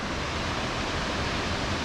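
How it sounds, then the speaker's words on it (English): The El Chiflon waterfall in Chiapas gives a steady, dense roar of falling water. It is loud and continuous, with no voices over it. "That is the most magical waterfall I have ever seen in my life."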